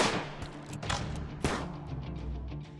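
Colonists firing guns in the Rimworld video game, several sharp bursts of game gunfire crackling over a dense background, with no talk.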